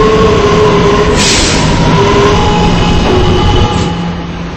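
An R211A subway train rumbles along steadily, loud and close, with a constant low roar and rattling wheels, easing slightly toward the end.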